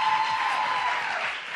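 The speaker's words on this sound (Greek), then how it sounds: "Αυτό και αν αξίζει χειροκρότημα" A studio audience on a Greek television talent show applauds, a dense, even patter of clapping that holds steady and fades slightly toward the end.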